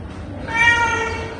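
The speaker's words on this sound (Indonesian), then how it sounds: "Ini suara kucing." A single clear cat meow, rising then trailing off, heard close and alone over faint background hiss.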